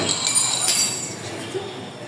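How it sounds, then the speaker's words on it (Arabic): Broken window glass clinking in a home, with a few bright tinkling clinks of shards at the start, close and fairly loud, fading into a quieter background. "الازاز اتكسر كله،"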